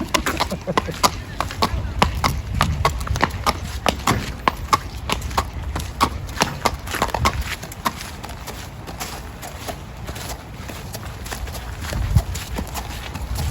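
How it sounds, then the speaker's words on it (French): A horse clip-clops steadily at close range at a racing venue, the even hoof strikes continuing throughout as people talk over them. "Il est très heureux, ce cheval-là."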